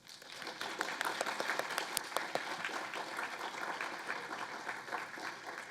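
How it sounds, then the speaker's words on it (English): Students at an NC State College of Engineering awards ceremony give a steady round of applause, many hands clapping evenly for nearly six seconds at moderate level, with no talking over it. "Students, let's give these important people a round of applause."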